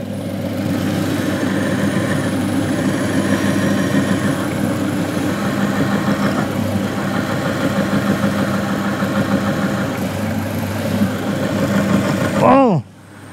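A bearing oil test machine runs with L-brand engine oil, giving a steady mechanical drone with grinding texture that abruptly winds down near the end. People talk over it.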